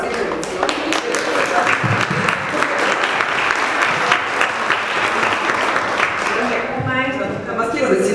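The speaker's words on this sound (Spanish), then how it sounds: "Yo quiero un aplauso para esa intervención." An audience at a lecture on the cultural heritage of the State of Mexico bursts into sustained clapping, a dense continuous patter at close range that thins toward the end as a voice begins speaking.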